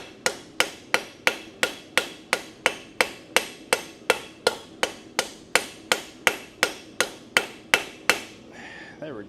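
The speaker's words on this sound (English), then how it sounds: "I'm going to use this ball peen." A ball peen hammer strikes metal at a blacksmith's workbench, about twenty sharp, ringing blows in a steady, even rhythm. The blows are close and loud, followed by a brief scrape at the end.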